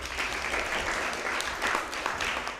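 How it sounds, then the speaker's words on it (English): An audience at a girls' high school debate knockout applauds in a continuous, dense wash of clapping that fills the room without pause. "a round of applause"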